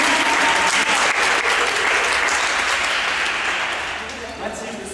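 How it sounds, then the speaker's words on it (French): A crowd at a competition applauds, dense clapping that stays loud and then gradually thins toward the end, with some voices mixed in underneath. "est-ce qu'on peut les applaudir?"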